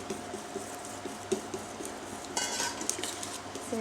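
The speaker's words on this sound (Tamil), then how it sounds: "சேர்த்து மாவை நல்லா கலக்கிக்கணும்." Whisking dosa batter with eggs mixed in, a spoon or whisk scraping and clinking softly and steadily against the sides of the bowl, close by and fairly quiet, with no talking.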